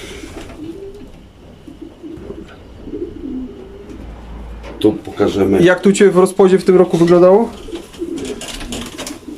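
Racing pigeons in a loft coo in a burst of soft, throaty, repeated calls midway through. Someone talks close by before and over the cooing.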